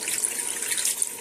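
About half a cup of water poured into a pot of frying spices for chicken shorba, a brief steady hissing gush with no voices.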